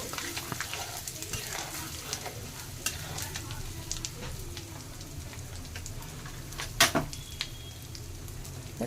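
A tempering of asafoetida or garlic sizzles and crackles steadily in a pan for pappu pulusu, with scattered pops and a sharp metallic tap near the end, close and unbroken by talk.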